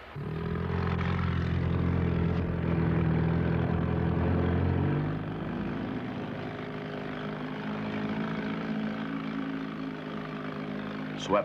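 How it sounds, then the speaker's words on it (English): A Catalina flying boat comes in to land over a lake on the Nile. A loud, steady propeller drone holds for several seconds, then drops to a lower, quieter hum as the aircraft settles. "Philippe brings the Catalina into a landing"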